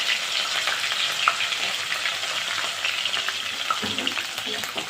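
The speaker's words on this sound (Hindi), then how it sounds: "सरसों का ऑयल डाला है और वो गर्म हो गया है। तो अब मैं इसमें लहसुन शामिल करूँगी।" Ground garlic sizzles and fries steadily in hot mustard oil in a pan, a close, continuous crackling hiss with occasional stirring scrapes.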